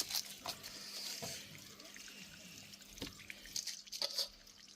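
Dirty water draining out of a fish pond tank after its outlet is opened, a steady splashing, gushing flow with a few sharper drips, moderately loud and continuous throughout.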